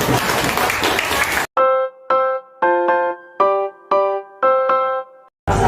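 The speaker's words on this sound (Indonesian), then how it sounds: "Tepuk tangan dong untuk Okta." A classroom claps for a student in a short burst of dense applause, which is cut off abruptly and followed by a run of bright, evenly spaced tonal chimes.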